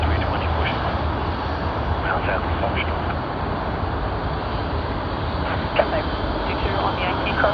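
A United Airlines airliner, flight UA842, departs Sydney Airport for Los Angeles with a loud, sustained jet engine roar that stays steady throughout, and a voice talks over it.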